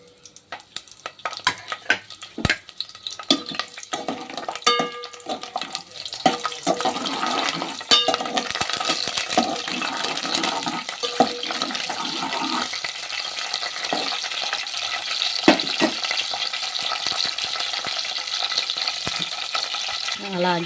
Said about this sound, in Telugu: పోపు దినుసులు కూడా వేసేసుకుందాం.